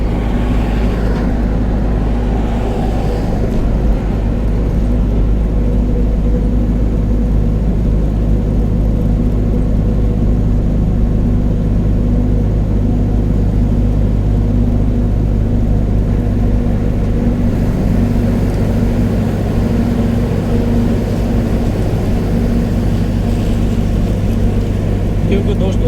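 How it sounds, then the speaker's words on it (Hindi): A truck's engine rumbles steadily and loudly from inside the cab while driving on the road, a constant low drone with road noise and no pauses throughout. "गाड़ी चला रहा हूँ"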